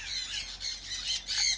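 Pet birds squawk loudly in repeated harsh bursts, a dense chorus of overlapping calls with no talking.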